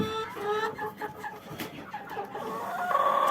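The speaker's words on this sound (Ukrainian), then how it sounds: "Є деякі кури, які несуться, ну ще не знеслися." Several laying hens cluck and squawk close by in an uneven chatter, with one longer, drawn-out call near the end.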